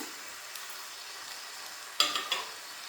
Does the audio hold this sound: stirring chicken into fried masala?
yes